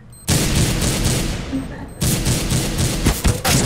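Dense gunfire in Counter-Strike: Global Offensive, a loud sustained burst of rapid shots filling the clip, with a short lull and then renewed firing and sharp extra cracks near the end.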